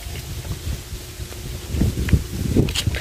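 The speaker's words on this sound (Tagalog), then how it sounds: "Lakas ng hangin dito." Gusty wind at a sand beach resort in Quezon buffets the microphone in low rumbling bursts, strengthening toward the end, with faint rustling in the background.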